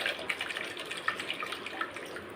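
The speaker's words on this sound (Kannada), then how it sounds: "ನಾನು 1 ಗ್ಲಾಸ್ ನೀರು ಮಿಕ್ಸಿ ಜಾರಿಗೆ ಹಾಕ್ಕೊಂಡು ನೀರು ಹಾಕ್ಕೊಂಡೆ" A glass of water is poured into a mixer jar while tomato soup is being made; a steady, splashy trickle runs close by with no talk.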